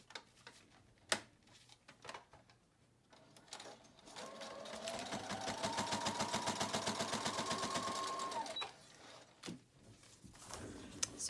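A sewing machine stitching down the centre fold of scrap-paper journal signatures runs steadily for about five seconds with a rapid even needle clatter, framed by quiet handling clicks and thumps before and after.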